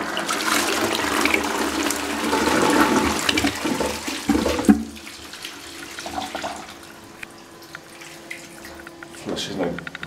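A 2014–2015 Armitage Shanks Sandringham Universal toilet using 4 to 4.5 litres of water flushes close up with a loud rushing surge, then the cistern refills with a quieter hiss and trickle. A mechanism clicks briefly.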